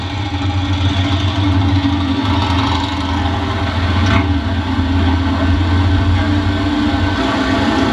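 A Suzuki GS pro street drag bike engine built with Vance Hines Pro Stock carburetors warms up. It makes a loud, steady, throbbing idle close by.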